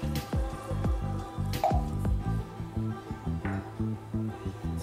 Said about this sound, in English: And then I'm going to add in some water.